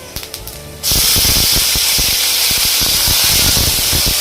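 Curry leaves dropped into hot oil with a dried red chilli and lentils erupt in a loud, steady sizzle and crackle after a brief quiet clatter, frying close by for a bitter gourd spice powder.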